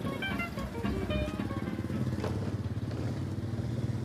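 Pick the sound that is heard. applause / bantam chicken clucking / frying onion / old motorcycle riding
old motorcycle riding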